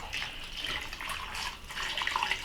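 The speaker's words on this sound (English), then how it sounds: "Now I'm going to add some water." Tap water running into a pot of vegetables being prepared for a slow-cooked vegan holiday meal, a continuous close splashing rush with no voices.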